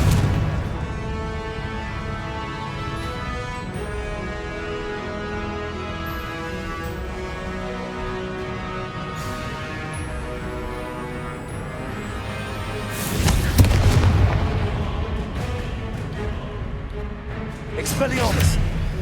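Confringo blasting spells burst in Hogwarts Legacy amid a busy, layered game soundscape; a loud broadband blast lands near the two-thirds mark with a smaller burst just before the end.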